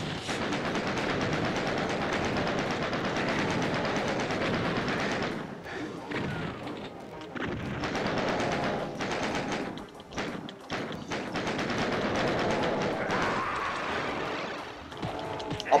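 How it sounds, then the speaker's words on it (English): Rapid chain gun fire in Doom, with dense bursts of repeated shots and thuds broken by short pauses, loud and close amid game effects. "It's a chain gun."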